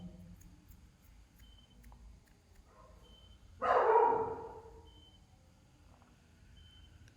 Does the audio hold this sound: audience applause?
no